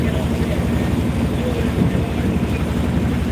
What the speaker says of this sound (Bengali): নৌকা দিয়ে করে যাচ্ছে